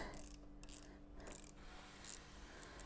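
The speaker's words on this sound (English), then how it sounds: "I'm just using a ratcheting wrench to" Ratcheting wrench working a brake lever pivot bolt on a Kawasaki KLX110 dirt bike, giving quiet repeated metallic clicks at close range over a low steady hum, with no talking.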